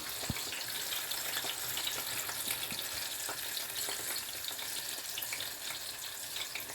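Rice for tomato rice is stirred in a pot, a steady close sizzle broken by occasional scraping stirs, with no talk.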